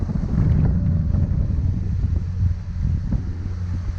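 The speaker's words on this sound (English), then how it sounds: "the wind is picking up quite quick" Strong wind roars offshore around a small 17-foot boat about ten miles out, buffeting the microphone with a constant, loud, low rumble. Faint hull and water sounds sit underneath.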